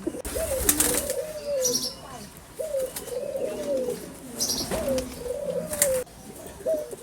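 Peacock-tail (Mayurpankhi) pigeons coo in repeated low, rolling phrases, with bright flutters and flapping wings breaking in now and then, close by and steady throughout.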